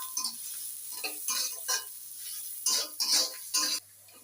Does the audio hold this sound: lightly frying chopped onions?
yes